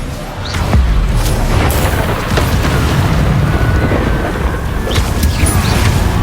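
Booming fiery Confringo spell explosions in the Hogwarts Legacy video game, a sustained loud rumbling blast with crackling bursts over several seconds and no talk.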